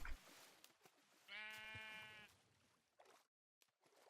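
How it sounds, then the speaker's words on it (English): A single sheep bleats once in Minecraft with the FTB Revelation modpack, a clear wavering call of about a second over near silence, with faint scattered clicks before and after. "There's some sheep."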